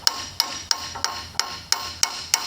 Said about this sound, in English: you're going to back the hammer up on one side, and you're not going to strike it super hard